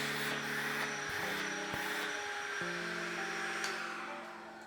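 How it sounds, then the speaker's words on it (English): Portable vacuum cleaner running steadily during car detailing, a loud, close, continuous whirring hum with shifting tones as the nozzle moves, tapering slightly at the end. "I just kick that bad boy on and I just go ahead and get to vacuuming all around the areas that I get"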